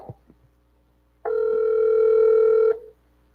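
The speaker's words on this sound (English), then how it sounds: "Okay, I'm getting a ringtone." A telephone ringback tone sounds once while an outgoing call connects, a single steady electronic tone lasting about a second and a half after a few faint clicks, with no talking.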